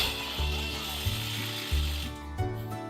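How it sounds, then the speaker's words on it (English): A cordless impact driver fitted with a 7/16 socket drives a lag bolt through a hole while assembling a wooden EZB hive stand, its motor whirring steadily with four rhythmic hammering bursts, close and fairly loud. "I have my impact driver with a 7/16 socket on it"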